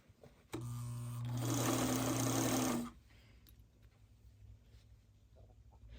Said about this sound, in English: I really like to start sewing first before I pin